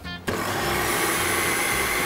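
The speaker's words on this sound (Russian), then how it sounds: "Загружаем наш блендер." A blender whirs steadily after a brief quiet start, mixing a chocolate-cookie protein shake; the motor noise is loud, continuous and close, with no talk.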